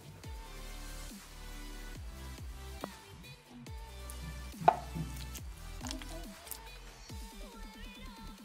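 Ripe avocado with lime juice is crushed into chunky guacamole in a bowl, giving a series of soft, wet, squelching pushes and taps, near and fairly quiet.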